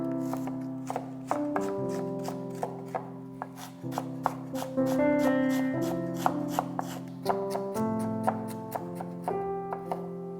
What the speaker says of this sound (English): One onion, diced. Medium piece of ginger, diced.